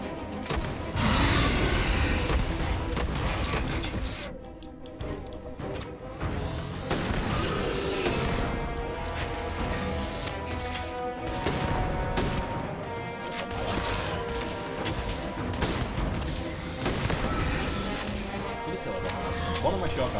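Shotgun blasts against a robot in the video game Starfield, loud repeated booms over a continuous clatter of combat noise across the whole stretch, with a person talking over the fight.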